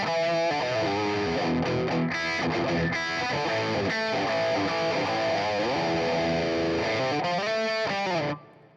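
Electric guitar played through a distortion pedal with a thick, fuzzy tone: loud, sustained distorted chords and notes ring continuously without voices, then cut off abruptly near the end.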